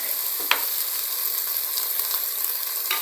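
Potatoes sizzle and fry steadily in a hot pan with beef and mushrooms, a continuous close crackling hiss with one brief clatter near the start.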